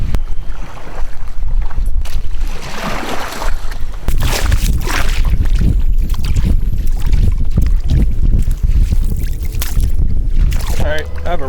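A fishing boat with its motor raised slogs through a shallow grass flat, giving constant rough sloshing and scraping with strong wind buffeting the microphone.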